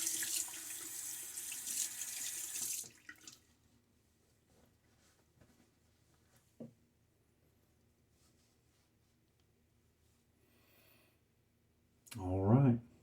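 A bathroom tap runs to rinse a razor, first a loud steady gush of water that stops, then a quiet pause with small clicks and a brief knock before the water bursts on again.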